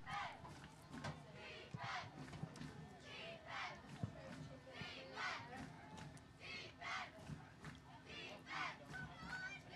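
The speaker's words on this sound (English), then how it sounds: "And the crowd getting into it with a defense chant." Football crowd at a high school homecoming game chanting for the defense, a rhythmic roar of many voices at steady intervals, distant and echoing over open stands.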